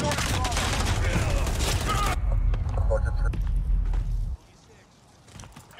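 Frag grenade blast and gunfire in Call of Duty Modern Warfare Domination on the Crash map: a loud burst of rumbling explosion and rattling shots for several seconds, then an abrupt drop to quieter scattered sounds.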